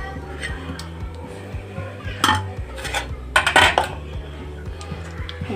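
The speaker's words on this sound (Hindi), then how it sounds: "साथ के साथ ये लहसुन अदरक हरी मिर्च और प्याज ये डाल देंगे।" Garlic, ginger, green chili and onion going into a pot of whole masoor and chana dal: clinks and clatter of a spoon against metal cookware, a few sharper scrapes, over a steady low background hum.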